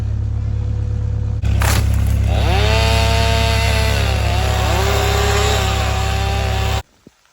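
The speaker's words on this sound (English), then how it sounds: "She's running the chainsaw." A chainsaw roars loud and close at a rainy cabin build site, revving up then bogging as it cuts into wood, and stops abruptly near the end.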